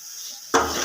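A spiced curry with crushed red chili and salt is stirred in a pot, a sudden sizzling, scraping stir bursting in about halfway through after a quiet hiss.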